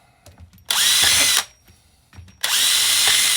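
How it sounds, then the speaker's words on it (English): A power drill bores through a plastic battery holder in two loud whirring bursts separated by a short pause, close and dominant. "I'm not sure if I'm supposed to like drill them out or just drill a hole straight through it."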